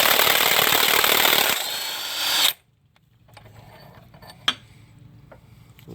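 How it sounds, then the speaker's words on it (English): An impact wrench on a 2014 Kia Soul 2.0L GDI engine, a loud buzzing whir for over two seconds that stops abruptly, then quiet workshop noise with a single sharp clank. "you're going to need an impact."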